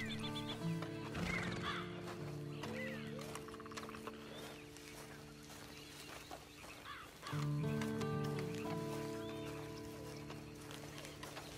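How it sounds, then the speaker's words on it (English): A horse in Red Dead Redemption 2 whinnies loudly near the start and again partway through, with hoof clip-clops and steady game music running underneath. "Then you better get on this horse."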